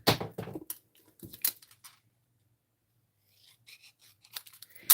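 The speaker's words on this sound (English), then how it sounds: "We're just going to cut this bugger in half." Scissors snip a paper circle in half for a stamped card, a few short crisp cuts close by, then a stretch of near silence and more faint rustling and snipping at the end.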